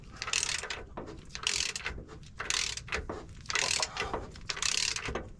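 Metal rear main seal ring being pressed onto the crankshaft of a 1980 Peterbilt 359 with an 8V92 engine, heard as a series of loud scraping, ratcheting metallic bursts, about five strained pushes in close succession.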